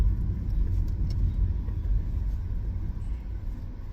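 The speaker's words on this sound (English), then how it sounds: "There's a white car coming." A white car passes on a road, a steady loud low rumble of engine and tires that holds for several seconds and eases slightly toward the end.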